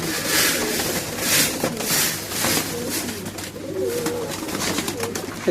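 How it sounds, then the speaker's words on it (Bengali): China khaki pigeons coo repeatedly at close range while being fed from a tray, with soft overlapping calls and a faint rustle of wings and feet, with no talking. "খাবার দিয়ে দিছি এখন সব কবুতর নেমে খাবে"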